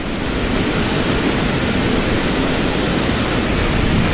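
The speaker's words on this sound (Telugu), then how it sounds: "ఈ వాటర్ పోయే ఫ్లోకి నిలబడ్డాం మనం" A monsoon water stream at Harishchandragad in Maharashtra rushes in a loud, steady broadband roar, close and unbroken, with some wind buffeting the microphone and no voices.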